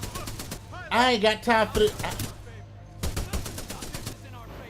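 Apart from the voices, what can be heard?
gunfire in the video game Titanfall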